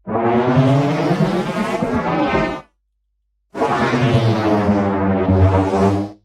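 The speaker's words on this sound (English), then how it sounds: "I have these 2 sounds here called high-end flange thunder and low-end flange thunder." Two bursts of high-end flanged thunder, a sound effect, with a metallic, sweeping tonal shimmer, each lasting a couple of seconds, separated by a brief silence.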